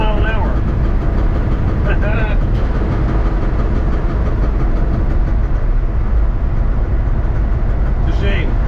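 A Chevrolet C10 shop truck engine runs loud and steady at about 35 mph, with popping mixed into a constant rumble of road and drivetrain noise, and brief voices over it.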